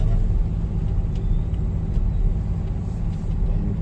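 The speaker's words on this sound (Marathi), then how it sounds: "गाडी आता पार्किंग मध्ये टाकतोय" A car is driven into a parking area near the Ranjangaon Ganpati temple on an Ashtavinayak road trip, heard as a steady, low engine and road rumble from close by, with no talk.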